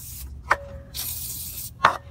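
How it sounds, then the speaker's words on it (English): Two quick trigger clicks, each followed by a hissing burst of cleaner sprayed onto a Mustang GT's gas tank, close and distinct with a pause between them. "we're gonna go ahead and spray down that gas tank"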